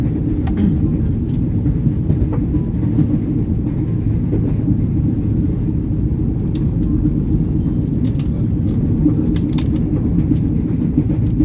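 Inside a KRL commuter train running near Cikarang, a constant low rumble of wheels on rails fills the span, with scattered clicks and rattles over the steady drone and no talk.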